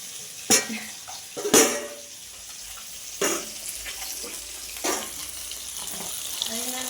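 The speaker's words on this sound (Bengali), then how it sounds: "মাছের ঝোলের জন্য দেখো মাছগুলো প্রথমে ভেজে নিচ্ছি" Fish pieces fry in a pan for a fish curry, giving a soft, continuous sizzle close by. A few sharp clatters of utensils and pan handling break in at intervals.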